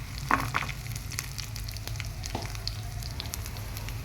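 Dried red chillies, garlic cloves and tempering seeds fry in a couple of spoons of oil, giving a steady soft sizzle with a few sharper pops early on, close by and without talk.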